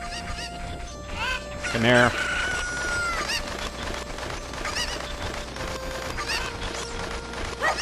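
Cucco chickens in the video game The Legend of Zelda: Ocarina of Time cluck and squawk in short repeated calls, one sharp cry standing out, under a person coaxing them to come.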